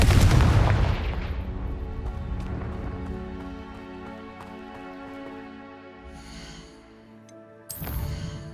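Confringo fire blast spell in Hogwarts Legacy: a loud booming impact at the start with a long fading rumble and ringing tail, then a sharper crackling burst near the end.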